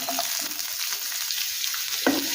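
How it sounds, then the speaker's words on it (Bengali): Chopped onion stirred and fried in hot oil with whole cumin in a pan, a steady close sizzle with occasional scraping stirs, alone without voices. "পেঁয়াজ নেড়ে চেড়ে হালকা করে ভেজে দেবো"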